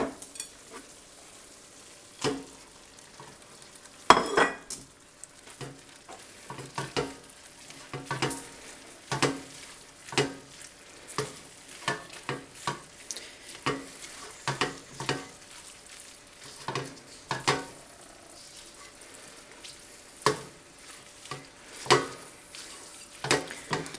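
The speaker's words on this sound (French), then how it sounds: "Et là du coup je vais mettre mon riz dans mes légumes qui ont l'air d'être cuits." Rice stirred into cooked vegetables in a home-kitchen pan, with a soft continuous sizzle broken by frequent scraping and clattering stirs of a utensil, fairly close and with no talking.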